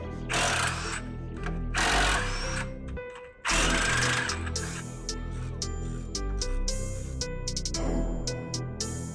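A hand tool or power tool undoes the two 12mm sway bar bushing bracket bolts under a car, giving repeated close, loud bursts of rattling, clicking mechanical noise separated by short pauses.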